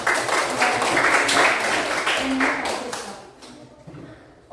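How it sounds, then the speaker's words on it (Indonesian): Audience applause at a morning teacher coaching session, brisk clapping from a nearby group that holds strong, then tapers off into quieter scattered claps before a sudden sound at the end. "Tepuk tangan untuk yang"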